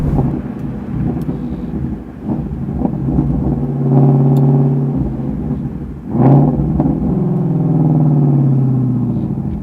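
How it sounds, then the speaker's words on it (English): A 2017 Ford GT350 Mustang's exhaust burbles and rumbles up close, swelling into revs a couple of times with wind buffeting the microphone. "just that first little burble of the exhaust"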